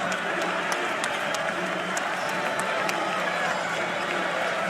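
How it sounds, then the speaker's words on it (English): A basketball crowd at the Moody Center cheers and claps during a Houston versus Texas game, a dense, steady roar with sharp claps and whistles mixed in, heard at moderate distance without clear speech. "Crowd has been alive here at the Moody Center"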